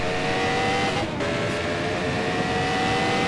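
1988 CART Indy race cars roar past at the Budweiser/G.I. Joe's 200, a loud, continuous engine drone with steady high whine and no speech over it.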